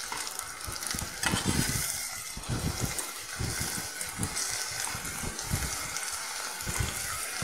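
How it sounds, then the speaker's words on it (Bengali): Bethua greens frying in a pan with spices, sizzling steadily while a spoon stirs and scrapes through them in repeated close strokes, with no talk. "ভালো করে নেড়ে চেড়ে নিলাম"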